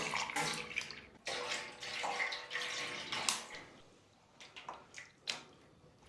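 Water pours steadily into a bowl of mixed spices and orange colouring to make a basturma brine, a close splashing gush that stops and restarts, with small drips and sloshes toward the end.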